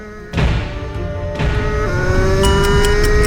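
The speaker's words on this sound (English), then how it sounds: "You really want to hear that high-pitched RPM going as often as possible" A high-revving shifter kart engine screams through a racing lap, climbing in pitch as it accelerates, with sharp jumps between gears. The sound is loud and close with no voices.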